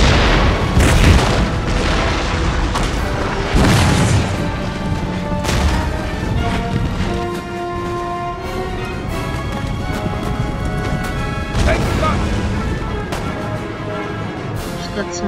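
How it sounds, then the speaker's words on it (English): Incoming rockets burst in a Napoleon Total War battle, a loud continuous barrage of booming explosions and crashes over battlefield noise and music. "Rockets coming in here."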